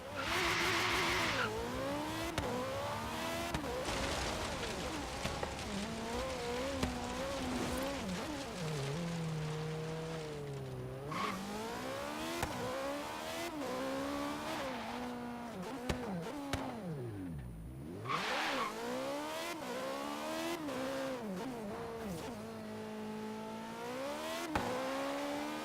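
A Formula 1 car engine in the video game Forza Horizon 3 screams continuously at high revs, pitch sweeping up and down through gear shifts and braking, with a couple of sharp downshift dips.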